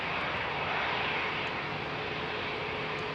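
SAS Airbus A320neo departing Heathrow, a broad, even jet roar heard from a distance, steady and moderately faint throughout the short stretch with no voices.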